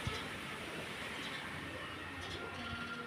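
A train passes on the railway line in front of a hillside house, heard as a faint, distant, steady rumble and rolling clatter with no talk.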